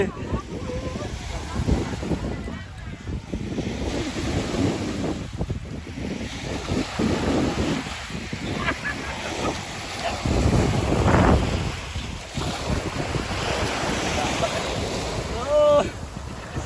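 Ocean surf rolls and washes onto a beach in a continuous loud roar, with strong wind buffeting the microphone and faint voices now and then.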